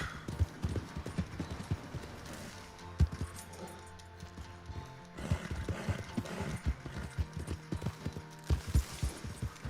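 Hooves clip-clop at a steady trot in Red Dead Online, close and fairly loud, with a brief horse whinny partway through and no talking.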